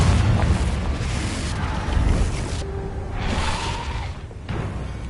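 Booming, rumbling burst of the Confringo fire-blast spell in the video game Hogwarts Legacy, loud and sustained with crackling debris and whooshes rolling over several seconds.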